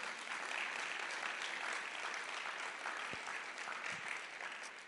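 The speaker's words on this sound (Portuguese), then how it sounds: "Aplauda ao Senhor, Ele é digno." Church congregation claps together in praise during a sermon, a steady, fairly soft wash of applause filling the room throughout, with a couple of brief thumps and no speech.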